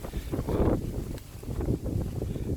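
Low, blustery rumble of wind buffeting the microphone, swelling and easing in gusts throughout.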